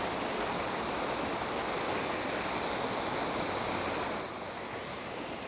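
Rushing water pours out of a canal lock in a loud, continuous roar that holds steady before easing slightly near the end, with no voices over it.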